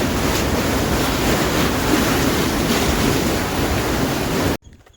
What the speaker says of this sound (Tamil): வேற லெவலில் நுர தழும்பு தண்ணி தெறிக்குதுன்னு சொல்லுவாங்க.